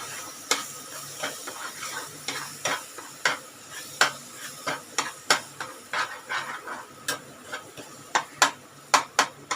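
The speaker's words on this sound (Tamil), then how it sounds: "இதிலே வதக்கலாம்" Semolina (rava) being sautéed in a pan for a sweet: repeated sharp scraping and clinking taps of a spoon against the pan over a soft sizzling background, irregular and close.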